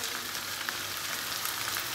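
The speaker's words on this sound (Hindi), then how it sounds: "और एक दफा मिक्स कर लेते हैं।" Chicken liver kaleji with green chilies and coriander being stirred in a pot, giving a steady close-up sizzle and frying hiss with faint stirring scrapes.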